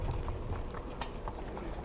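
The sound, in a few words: horses' hooves clomping down slushy streets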